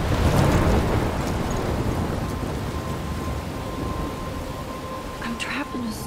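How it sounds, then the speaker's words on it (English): A roaring thunderstorm with heavy rain, wind and crashing waves in Life Is Strange, loud and enveloping from the start, with a deep rumble that slowly eases while the downpour continues. "I'm trapped in a storm?"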